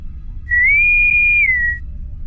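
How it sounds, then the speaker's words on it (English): A bosun's whistle signal played as a sound effect, one loud, clear, sustained piping tone that rises slightly, holds steady for about a second, then dips and ends, heard alone. "She's gonna have the bosun's whistle go off, just so she signals the ship"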